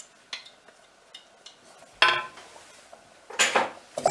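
A pot of carrot and potato mixture being stirred as it comes to the boil, with scattered metallic scrapes and clinks of utensil against pot, two louder bursts near the end, no talking.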